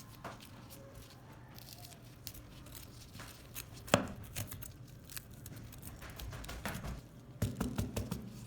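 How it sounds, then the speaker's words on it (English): Knife cutting sweet peppers into thin strips on a board, a steady run of soft taps with a sharper knock partway through, close and moderately quiet with no talking. "slice them into thin strips, about the same thickness as the potatoes."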